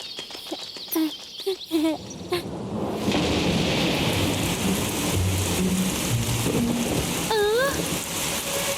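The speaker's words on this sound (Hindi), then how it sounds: "ये सही में बारिश हो रही है।" Steady rain in a cartoon hisses on surfaces after a few brief chirps and knocks. A bird calls faintly near the end.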